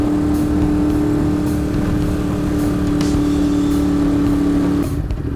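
A motorcycle engine drones steadily in low gear on a mountain road at Khao Kho, Phetchabun, with a loud, even hum that drops away near the end.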